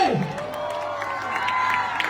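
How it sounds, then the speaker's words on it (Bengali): A carnival show audience cheers and claps in a steady, busy wash of crowd noise, with scattered whoops and shouts rising over the applause from start to finish. "একটু জোরে হাততালি সবাইকে জন্য"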